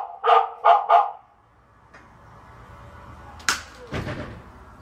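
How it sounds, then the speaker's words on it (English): An Aqara smart hub alarm plays a recorded dog bark, three sharp loud barks in quick succession, then a quiet room tone with a couple of brief clunks and knocks afterward. "dog, which is just one of many sounds you can choose from"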